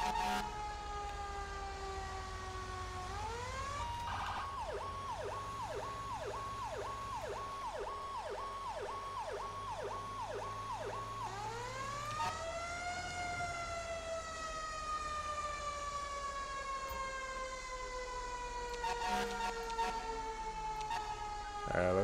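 Fire engine siren wailing in GTA 5 as the truck responds, rising and falling sweeps with a stretch of rapid yelp pulses in the middle, loud and continuous over low engine rumble.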